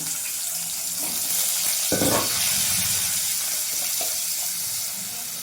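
Potatoes fry in oil for a Bengali hilsa, potato and eggplant curry, producing a loud, constant broadband hiss with a brief louder burst near the middle and no speech.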